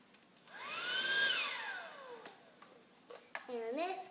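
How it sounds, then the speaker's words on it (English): A small toy bug vacuum whirs up with a rising, falling motorized whine that swells for about two seconds and then fades, followed by someone speaking. "So tell us about your bug vacuum. It sucks the bug up."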